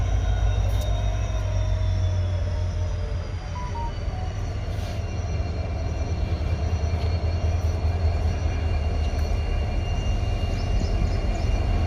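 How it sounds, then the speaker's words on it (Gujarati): A Sabarmati Superfast train pulls into a station, a heavy low rumble of rolling cars with thin sustained wheel squeal lines over it, steady and close for the whole span, with no voices. "તો ગાઈઝ આપણી ટ્રેન આવી ચૂકી છે."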